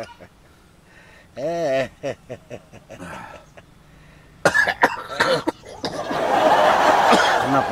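Someone coughs repeatedly after drawing on a cigarette too fast, a few raspy bursts with a chuckle mixed in, then a louder, harsher fit near the end.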